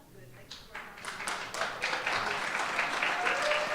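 Audience applause at a public ULURP land use hearing in Brooklyn, rising within a second into steady clapping from a crowd that swells and holds, with murmured voices underneath.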